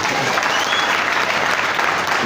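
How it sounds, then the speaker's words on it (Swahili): Full, dense clapping from a church congregation, even and continuous for a couple of seconds, with no distinct voice rising above it. "Tumpigie makofi."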